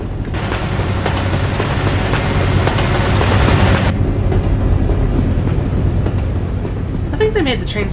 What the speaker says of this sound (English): I think they made the trains a little too loud in this game. Especially the tracks, like the wheels going on the tracks and stuff.